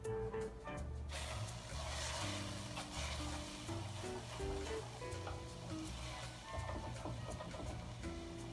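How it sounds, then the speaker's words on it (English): Butter melting and sizzling in a pot preheated for fish broth, a steady crackling fry that runs continuously close by with no talking over it. "as our butter is melting"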